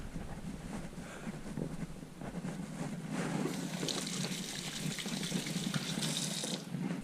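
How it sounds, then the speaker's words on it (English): Hands being washed under a running tap, a steady close hiss of flowing water that splashes more brightly partway through, continuous and unbroken, with no talking. "Wash my hand a little bit."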